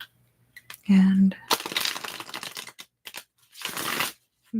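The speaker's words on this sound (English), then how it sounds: "I'm very nearly finished shuffling these cards." Tarot cards shuffled by hand in a quiet room, a few soft papery riffles and slides in short bursts between pauses.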